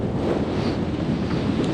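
Strong wind gusting around 30 miles an hour buffets the microphone in a steady, roaring rush, with no voices or other sounds, in the Brecon Beacons.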